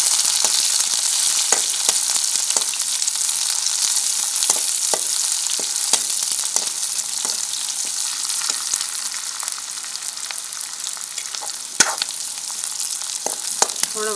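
Chopped onion sizzles in hot oil in a pan while kadhi palak is being made, a steady close-up hiss broken by occasional stirring clicks and scrapes.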